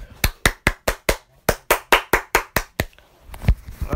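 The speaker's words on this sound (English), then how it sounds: "Give clap." About a dozen evenly spaced claps ring out loud and clear for a player at the close of a four-player party game final, then trail off into a short burst of muffled low rumble.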